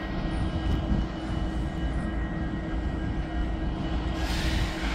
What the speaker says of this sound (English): this Bnsf engine that's coming towards me